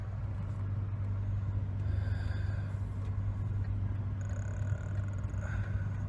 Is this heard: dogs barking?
no